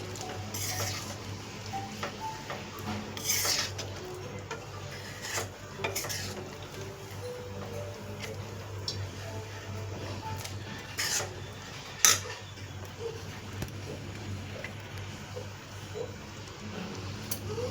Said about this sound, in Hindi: अब इसे अच्छे से मिक्स कर दे रही हूँ।